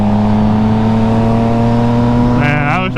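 A hot rod's engine drones loud and close at a steady idle, then its pitch climbs sharply as it revs up near the end.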